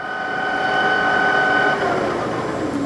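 A Southwestern Industries TRAK TRL1840SX CNC teach lathe with a two-speed headstock runs its spindle in low range, giving a steady mechanical whine and hum that shifts slightly partway through.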